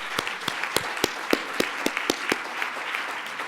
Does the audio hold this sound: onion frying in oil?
no